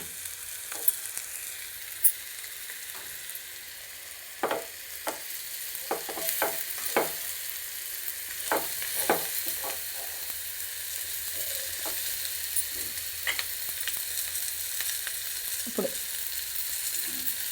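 Raw mango pieces frying with onions in an egg-mango curry, a soft steady sizzle punctuated by repeated spoon scrapes and taps against the pan; a single spoken word briefly.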